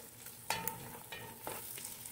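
Two large white onions frying in a pan for a chicken liver and gizzard calderita, soft steady sizzle with a few sharp stirring scrapes and clicks of a utensil against the pan.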